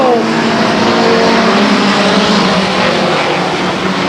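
Race cars roaring past the grandstand at Stockton 99 Speedway on the final lap, a loud continuous engine drone filling the air with shifting pitch as the pack goes by.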